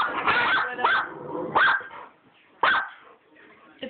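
A dog barks in short, sharp bursts, four or five close, loud barks spaced unevenly among playful dogs, with a faint voice murmuring between them.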